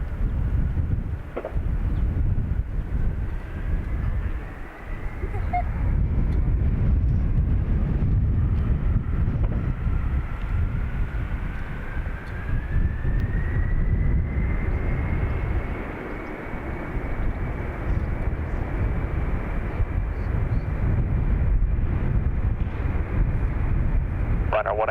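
Dubai Air Wing Boeing 747 taking off from runway 28 right at Dublin Airport, a loud continuous jet roar with a slowly rising engine whine, heard from a distance through wind noise on the microphone.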